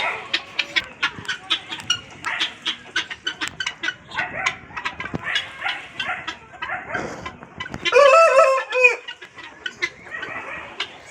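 Harsh, rapid cackling calls of guinea fowl, repeated in choppy bursts, with one louder strained cry near the end.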